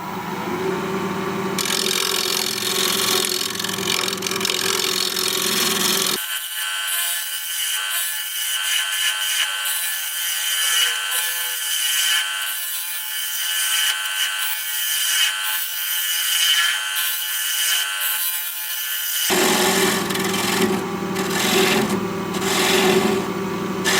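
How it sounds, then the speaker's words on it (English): Wood lathe running steadily as a tool does a shear scrape on spinning turned wood, a loud continuous whirring hiss with a harsher scraping texture at the start and end and a smoother stretch between. "I'm going to do a little shear scrape right here."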